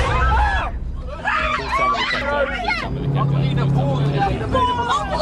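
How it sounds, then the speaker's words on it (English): Frightened tourists scream in a car reversing away from an elephant on safari, loud panicked voices and shouting over a steady motor hum and rumble, with people talking and crying out throughout. "screams of terror can be heard coming from the tourists as they proceed to drive away in reverse"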